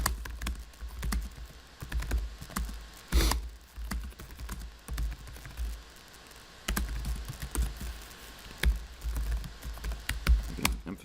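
Typing on a computer keyboard, a steady stream of close, crisp key clicks in uneven bursts with brief pauses, including a few heavier keystrokes, with no talking.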